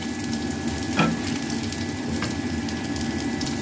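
Chicken being stir-fried with dark soy sauce sizzles steadily in a pan, with a couple of louder scrapes and knocks from stirring, close and moderately loud.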